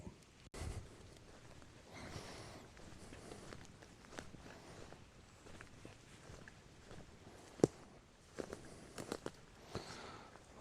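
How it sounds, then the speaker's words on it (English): Steady rain patters on foliage in a bluebell wood in Scotland, a soft continuous hiss with scattered louder drips and a few sharp taps, heard up close without talking. "the rain's getting a bit heavier now"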